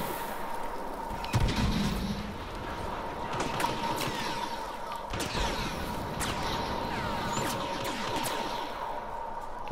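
Blaster gunfire in the Star Wars Battlefront video game during a battle on a burning Endor, with rapid repeated shots and bursts over a dense, constant battle din.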